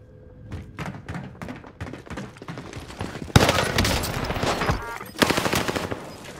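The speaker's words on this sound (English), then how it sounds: "Shooting someone on the ladder room." Gunfire in Call of Duty Warzone: rapid automatic bursts that swell into a loud, dense stretch of shooting near the middle, then a further heavy burst toward the end, with faint game sounds between.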